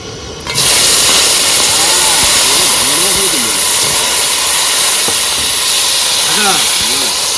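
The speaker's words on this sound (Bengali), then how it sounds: "তেল গরম হয়ে গেছে প্রথমে কাঁকড়াটা ভেজে নেবো" Crab frying in hot mustard oil in a kadai, a loud steady sizzling hiss that bursts in and fills the whole stretch, with a voice speaking faintly underneath.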